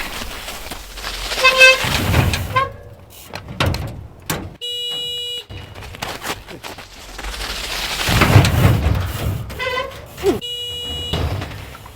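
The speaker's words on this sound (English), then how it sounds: "Oh, honk, honk, baby, honk." Several short car horn toots sound in bursts, separated by gaps of rumbling background noise and a few thuds.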